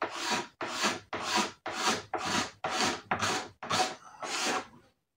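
A cutter blade scrapes paint from the fuel tank of a 1993 Honda CR125R before sanding, in eight or nine firm, rasping strokes with short pauses between them, close and loud with no voice.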